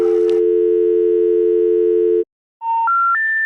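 Telephone intercept signal ahead of a recorded number-changed announcement: a loud steady tone, a short silence, then three rising electronic beeps in sequence.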